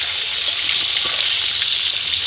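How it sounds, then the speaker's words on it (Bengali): Chicken pieces fry in a pan with a steady bright sizzle and faint scraping, close and loud, no talking. "নেড়ে লাল লাল করে ভেজে নেব দেখুন ভালো করে ভেজে নেব"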